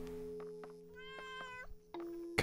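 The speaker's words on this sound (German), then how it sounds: "Ach schau mal, das ist diese Katze." A cat meows in the horror video game Layers of Fear: Inheritance, a single drawn-out, rising-and-falling meow over a quiet hum of background tones, with brief clicks and a sharp noise burst at the end.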